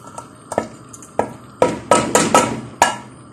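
Garlic frying in oil in a pan for a bean purée, with repeated sharp stirring or scraping clatters over a low background sizzle, close and moderately loud.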